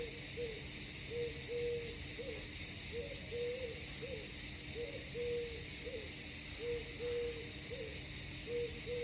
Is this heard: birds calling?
yes